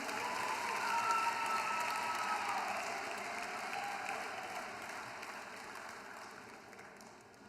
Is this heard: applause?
yes